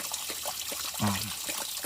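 Running stream water trickles steadily along a backpacking trail on Mt Mitchell, with a brief louder splash near the middle and a few faint voice-like sounds underneath.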